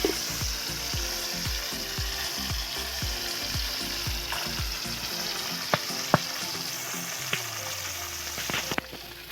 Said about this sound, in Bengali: দেখো মাছগুলো এক পিট করে ভেজে উল্টে দিলাম।